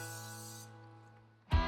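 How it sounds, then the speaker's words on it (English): Cooking spray hisses into a hot cast iron pan in a short, steady burst that fades after about half a second, followed by a brief clunk near the end. "Another little spray of our cooking spray."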